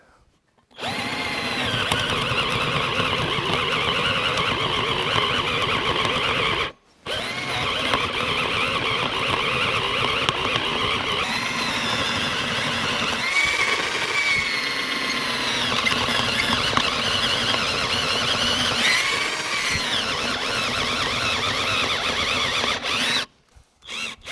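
A cheap Genesis cordless drill bores steadily into material, whining and grinding loudly for about six seconds, then keeps running nonstop for most of a long stretch, with no voices.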